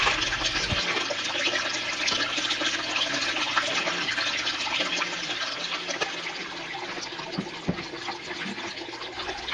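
Water rushes over a deep well fine gold sluice in a constant, close, full-bodied gush with occasional splashy knocks, no voices present.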